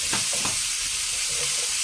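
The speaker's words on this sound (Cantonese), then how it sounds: "用鑊鏟將佢兜勻" Winter melon is stir-fried with ginger slices in an oil-free wok, the wok spatula tossing it through a loud, continuous sizzle with a few quick scraping strokes near the start.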